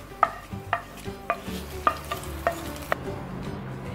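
Ground coconut paste goes into a simmering Kollam-style fish curry in a pan, with a series of sharp spoon scrapes and taps against the vessel at a steady pace and a faint sizzle underneath. The sound is close and quiet, with no talking.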